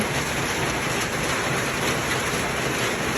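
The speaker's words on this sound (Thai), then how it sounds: "ฝนตกแล้ว" Steady rain pours down nearby on a rainy day in Thailand, a dense, even hiss of drops hitting surfaces with no pauses.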